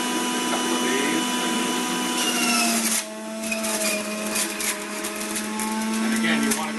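A juicing machine runs at speed while celery stalks are fed in, giving a steady motor whine with grinding and crunching bursts as the stalks are pushed through.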